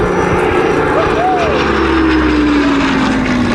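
A propeller aircraft drones steadily and loudly at an airshow, its engine tone sliding slowly downward as it passes, while a commentator talks over the noise.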